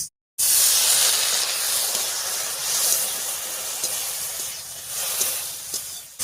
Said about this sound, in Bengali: এবার সামান্য একটুখানি জল দিয়ে দিচ্ছি।